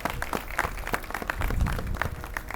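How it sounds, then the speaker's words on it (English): A ribbon-cutting ceremony crowd at the Delaware Center claps for a man just thanked from the podium, a steady patter of many hands at moderate loudness with no voices over it. "Let's give him a big round of applause."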